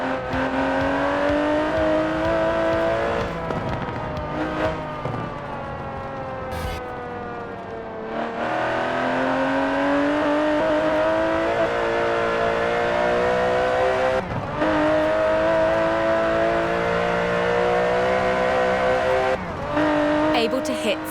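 An Aston Martin DB11's 5.2-litre twin-turbo V12 roars continuously in Forza Horizon 4, pitch climbing and dropping with gear shifts, loud and close.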